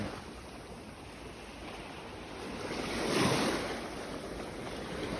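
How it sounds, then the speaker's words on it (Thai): Ocean waves wash onto the beach at Koh Samet, Thailand, a steady rushing surf that swells to a louder crash midway and then eases back, with faint wind and no voices. "เดี๋ยวจะพยายามถ่ายให้เวลาที่คลื่นเขา ซัดมาแล้วจะมีภายน้ำติดมาด้วยกับคลื่น"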